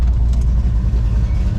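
A 1993 Ford Mustang GT Fox body engine idles close by, a loud, steady low rumble with a slight irregular throb throughout.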